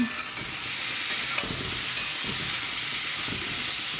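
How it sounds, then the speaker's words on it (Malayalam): Chopped chayote is stirred in hot oil in a pan over high flame, giving a steady bright sizzle with soft scraping stir sounds every second or so; no voices. "ഇനി ഇത് എണ്ണ ചൂടാകുമ്പോൾ തട്ടി കൊടുക്കാവുന്നതാണ് ഇതിന് ഇളക്കി കൊടുക്കാം"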